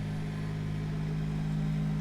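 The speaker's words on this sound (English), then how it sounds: "That's a tractor, by the way." A tractor engine passes outside in the countryside, a steady low droning hum heard faintly through an open door, with no talk over it.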